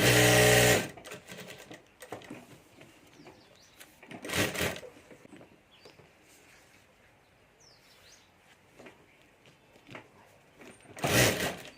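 A sewing machine stitches a plastic lamination layer onto a handmade multi-pocket ladies' purse, with a brief loud run at the start and further short bursts, and quieter handling sounds between them.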